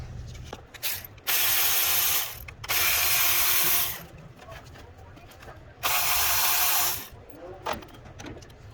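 A ratchet wrench unbolts a bolt on the engine of a 2017 Toyota IM, with three loud bursts of rapid clicking separated by quieter pauses.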